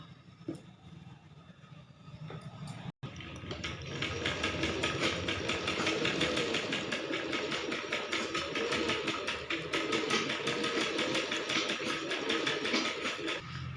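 Sewing machine stitching the sleeve fabric of a blouse, a fast steady mechanical rattle that starts after a short pause and runs continuously, close and fairly loud.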